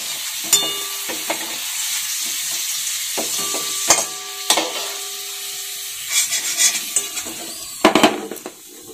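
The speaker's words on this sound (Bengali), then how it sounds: "সব সবজি একসাথে ভাজা হয়ে গেছে। এখন এখানে মশলা দিয়ে কষাবো।" Fried vegetables stirred with spices in a pan of oil, a soft sizzle broken by sharp clanks and scrapes of the spoon against the pan at irregular intervals, close by and without speech.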